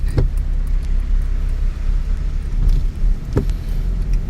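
A car descends a mountain road in low gear on the way to Sangkhla Buri in Kanchanaburi, its engine a steady, close, continuous rumble with a couple of brief louder bumps and no talking.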